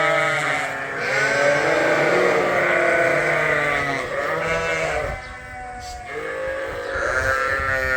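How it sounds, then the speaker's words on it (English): Many sheep bleat inside a barn, a dense crowd of loud overlapping calls close by, rising and falling continuously with a brief lull midway and no speech. "all the sheep are still locked up in the barns right now"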